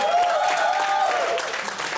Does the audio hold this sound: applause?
yes